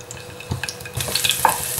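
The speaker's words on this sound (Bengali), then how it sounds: "আমি একটু রোস্ট করে নেব তেলে।" Garlic cloves, eight to ten of them, roast in about two tablespoons of hot refined oil in a frying pan, with a quiet sizzle and occasional stirring clinks that build louder in the second half.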